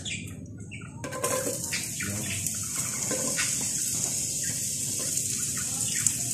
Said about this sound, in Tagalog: So, igisa na natin yung puting sibuyas.